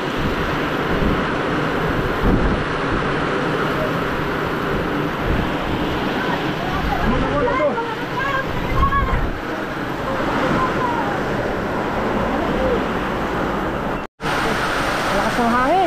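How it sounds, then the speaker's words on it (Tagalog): Strong wind and heavy rain sweep over an open vegetable farm growing eggplant and string beans, making a continuous loud roar with gusty buffeting against the microphone that lasts the whole stretch. "Lakas ng hangin."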